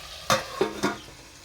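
Three sharp scrapes of a utensil stirring chicken tikka in a pan, spaced irregularly over a faint sizzle, close and fairly quiet with no talking.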